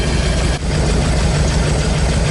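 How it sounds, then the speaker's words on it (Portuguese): A Tonella car engine idles steadily after its carburetor has been adjusted, a loud, even low rumble with one brief dip in level early on. "até a marcha lenta a gente percebe que melhorou"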